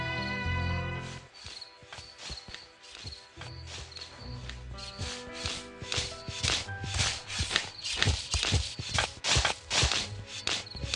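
Digging in the point-and-click video game Thimbleweed Park: a run of crunchy, scraping shovel strokes that grow louder and quicker, following a short tonal musical bit at the start.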